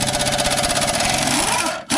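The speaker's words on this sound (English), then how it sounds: "I'm just using a stubby impact with the 18mm with the wobble socket or universal" A stubby impact wrench with an 18mm wobble socket loosens bolts on a 2009 Dodge Caravan during a rear wheel bearing hub job, a steady loud rapid hammering buzz that runs continuously, then cuts off abruptly near the end.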